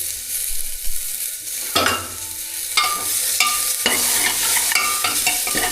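Tomatoes frying with onions in hot oil, loud steady sizzling broken by repeated scraping stirs of a spoon against the pan, close and continuous.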